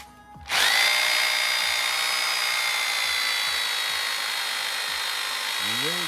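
A power drill whines loudly and steadily, driving a galvanized grounding rod into soil for a house ground; it starts abruptly after a brief quiet moment and runs without pause.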